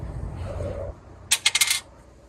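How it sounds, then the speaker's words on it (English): One die is rolled for a tabletop gamebook and clatters on a hard surface in a quick burst of four or five bright ticks, after a brief low rumble. "Roll 1 dice and add it to your athleticism level."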